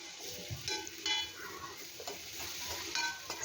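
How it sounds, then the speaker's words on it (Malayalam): A spoon stirs a thick mashed banana and oat mixture with jaggery for a healthy snack batter, giving a continuous soft scraping and squelching with faint background sizzle, no voices. "ഇത് നന്നായിട്ടൊന്ന് ഇളക്കി കൊടുക്കുക."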